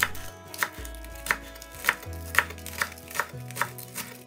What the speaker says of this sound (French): on coupe la base, on détaille en tronçons et on va ciseler le tout